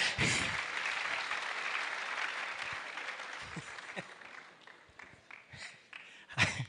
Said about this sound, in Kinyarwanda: dukomere Yesu amashyi